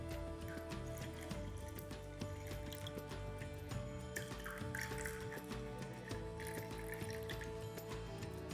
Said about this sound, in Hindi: अब ठंडो पानी डालना।